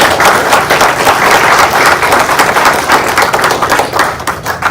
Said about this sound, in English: So I think these guys deserve a round of applause.